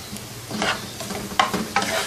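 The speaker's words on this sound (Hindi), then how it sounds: "अच्छी तरह से मिक्स करें कि एग जो भी इसमें क्रम्बल हो जाए।" Scrambled eggs, anda bhurji or khagina, being stirred in a hot pan, with repeated scraping strokes of a spatula over a soft steady sizzle.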